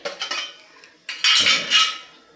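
A metal idli mould clatters into an idli steamer vessel, a few sharp clanks and scrapes of metal on metal close by, with no talking.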